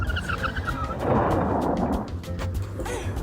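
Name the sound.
car braking hard and skidding in a movie scene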